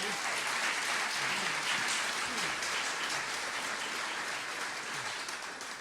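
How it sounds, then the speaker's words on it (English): An audience at a memorial concert applauds the band, a thick, continuous roar of clapping heard from within the crowd, steady and full throughout with faint voices underneath. "Please give them a round of applause."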